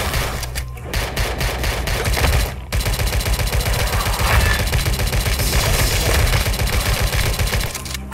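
An old gun fires in the Tesla vs Lovecraft video game: loud, rapid machine-gun bursts rattle almost continuously, with two short pauses near the start before a long sustained stream of shots.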